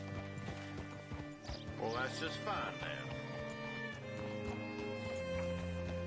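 Horse hooves clip-clopping in a western video game, irregular hoof steps with a brief whinny-like burst, under someone speaking and ambient game sound.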